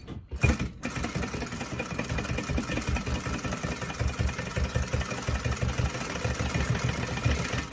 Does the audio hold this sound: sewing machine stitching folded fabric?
yes